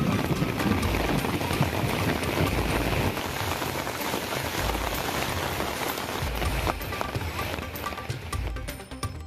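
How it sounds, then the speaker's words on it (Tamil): Moderate morning rain in Kanchipuram, a dense steady patter of drops on surfaces filling the whole stretch, close and continuous, with no talk over it. "காஞ்சிபுரத்திலும் காலை முதல் மிதமான மழை"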